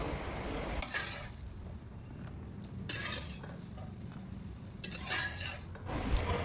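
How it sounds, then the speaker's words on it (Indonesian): Meat frying briefly in a pan for an Indonesian dish, stirred and tossed, with a steady low sizzle and intermittent scraping and clinks of a utensil against the pan. "digoreng dulu dagingnya sebentar aja"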